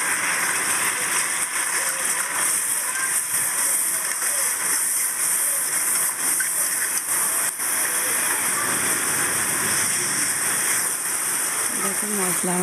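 Ground spices such as coriander and cumin sizzling as they are sautéed in a hot pan, a steady dense hiss and crackle throughout, with faint talk underneath.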